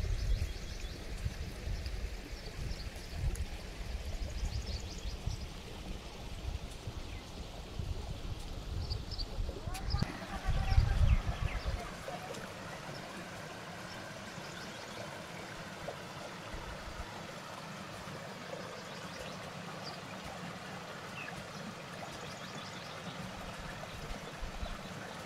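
Mountain stream in a hill village of Almora district, Uttarakhand, flowing steadily as a continuous rushing wash, heavier low rumble in the first half, then a quieter, thinner steady flow, with a voice talking over parts of it.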